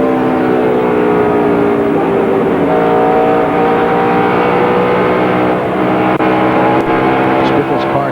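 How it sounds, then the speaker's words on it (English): A 2002 Busch Series stock car engine at Dover roars steadily and loud with throttle changes, the pitch shifting gradually, while a commentator talks over the engine noise throughout. "Does Biffle's car sound any better to you, what he's doing with the throttle?"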